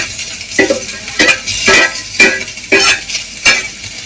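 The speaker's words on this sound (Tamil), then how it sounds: "ஆனியன் ஆட் பண்ணிக்கணும். ஆனியனும் கிரீன் சில்லி." Onion and green chilli in hot oil with mustard seeds, spaced scraping and clinking strokes of a spoon against the pan, about six sharp stirs over a low steady sizzle, close and clear.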